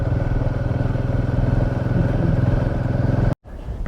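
A motorcycle engine runs steadily and close during a ride in Ladakh, throbbing with an even rhythm, then cuts out abruptly as the bike is parked before a brief restart of sound.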